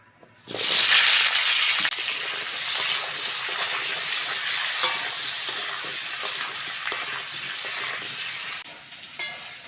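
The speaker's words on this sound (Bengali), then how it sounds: "বেগুন আলুটা ভালো করে ভেজে নিয়েছি" Potato and eggplant pieces frying in hot oil with dry chilli and bay leaf, a loud close sizzle that bursts in as the vegetables hit the pan and then holds as a steady hiss with faint stirring scrapes, no talking.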